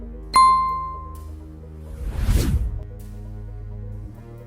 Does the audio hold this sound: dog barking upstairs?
no